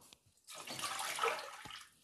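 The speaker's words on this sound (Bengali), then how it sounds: "কড়াইতে এবার আমি পরিমাণ মতো জল দিয়ে দেব।" Water pours into a cooking pan on a gas stove, a short steady splashing stream that starts abruptly after a quiet moment and runs close and fairly loud for over a second before tapering.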